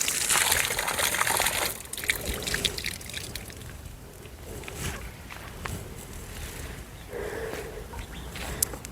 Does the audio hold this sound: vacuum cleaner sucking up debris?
no